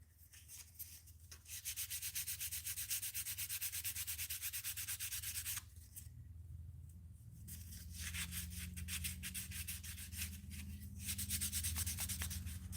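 A handmade fishing lure is sanded smooth with steady, close rubbing strokes that run almost continuously, with a short pause midway before the scraping resumes.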